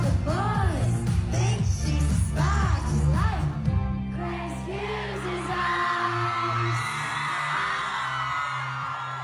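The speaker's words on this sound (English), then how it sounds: "Love those Welsh screams over there as well" A crowd at a show screams and yells excitedly, loud and continuous over music for about nine seconds.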